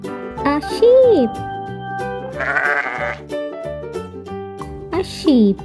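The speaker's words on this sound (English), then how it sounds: "A sheep say baa." A farm sheep bleats twice, a wavering baa near the start and another near the end, over steady background music.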